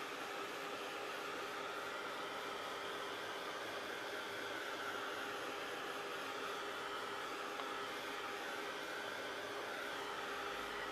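A heat tool runs steadily at close range, drying acrylic paint with an unbroken blowing whoosh for the whole stretch, with no pauses or voices.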